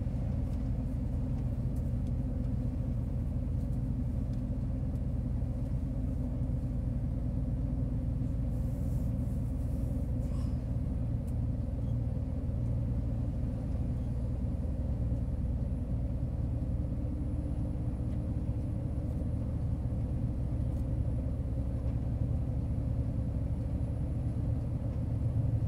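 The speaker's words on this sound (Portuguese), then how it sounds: "Esse negócio de carro tá gangorrando" A car rolls along the potholed BR 116 highway in Ceará, giving a steady, loud low-pitched road rumble and engine drone throughout, with no talking.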